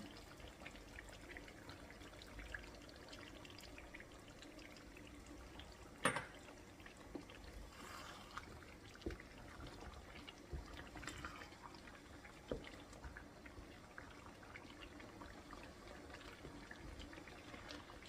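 One and a half tablespoons of vinegar pour into raw mango pickle, a faint, soft trickle of liquid in a quiet room.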